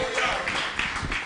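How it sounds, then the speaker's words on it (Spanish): Congregation clapping for the Holy Spirit in church, a brief burst of rhythmic claps at an even pulse, fairly close, mixed with voices. "Un aplauso al Espíritu Santo"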